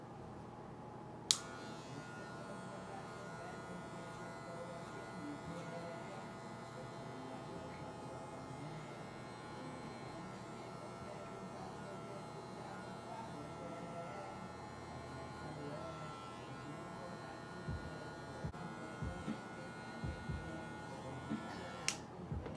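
Electric hair clippers fitted with a number one guard cut a young child's hair for a crop top fade, giving a steady, faint buzzing hum throughout with a few soft knocks near the end.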